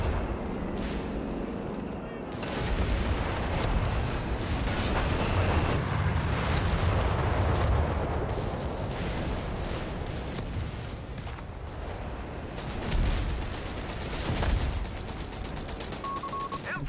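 An artillery tank fires in the World War II strategy game Company of Heroes 3, giving heavy booming blasts and rumbling battlefield noise that roll on continuously under someone speaking German.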